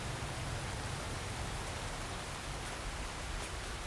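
Steady rain falls on a wet surface as an even, constant hiss with no breaks, faint and without any voices.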